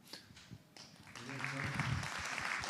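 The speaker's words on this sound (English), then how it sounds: "I hope you can hear the applause." An audience at the World FIRA 24 robotics conference applauds, a soft patter that swells into steady clapping after a brief spoken remark. It stays fairly faint and distant throughout.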